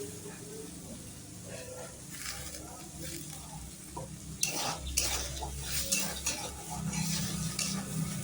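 Dal stirred and fried in a pan with very little oil for khichuri, giving steady scraping and a soft sizzle with a few sharper utensil clinks toward the end, close and continuous.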